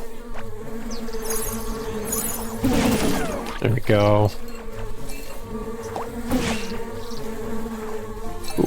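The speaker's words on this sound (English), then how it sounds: "At least it's a lot more bees." Buzzing bees in the action RPG Secrets of Grindea, a steady insect drone running under game music and effects while a player talks over it.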